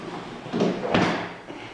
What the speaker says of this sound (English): They're all on ball bearing drawer slides,